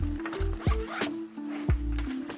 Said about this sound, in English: A little bad spot in the zipper, but it does come across.